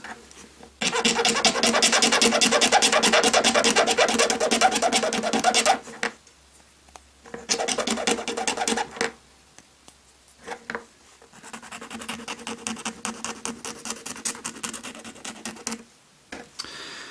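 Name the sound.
fitting and trimming new plastic piece on vintage toy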